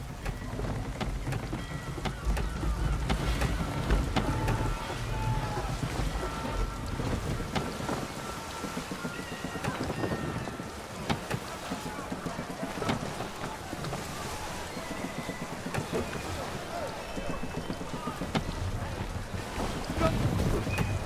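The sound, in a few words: sailing ship at sea in video game Assassin's Creed III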